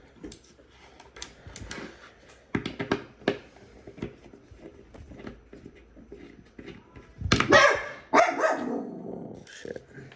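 A wiener dog barks in scattered sharp bursts, mostly moderate, then a louder flurry of close barks and yips near the end, alone without talk.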